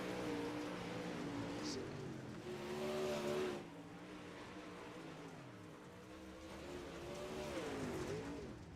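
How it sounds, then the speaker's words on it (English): Race cars circling a track during a Friday night qualifying session, a steady layered engine drone with rising and falling pitch as several cars pass at moderate distance. "Race cars might be getting turned down just a little bit."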